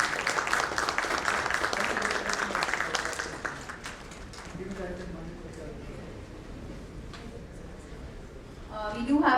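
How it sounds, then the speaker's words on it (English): A conference audience applauds loudly with dense, steady clapping that gradually thins and fades, while a voice speaks briefly near the end. "Can we have a round of applause, please?"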